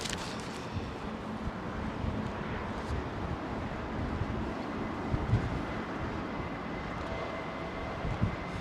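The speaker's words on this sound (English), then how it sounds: "That's the jet we're hearing." Jet airliner departing Heathrow runway 27R, heard as a steady broadband engine roar from a distance, with some wind noise throughout.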